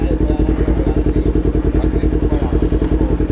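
A Kawasaki Ninja 400 motorcycle engine idles in neutral close by with a fast, steady pulsing putter and a loud low rumble throughout.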